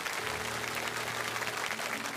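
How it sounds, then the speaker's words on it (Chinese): An audience claps warmly for veteran Chinese opera artists at a televised award-winners' showcase, a continuous wash of many hands at moderate loudness with no voices over it. "把掌声送给我们的前辈艺术家们"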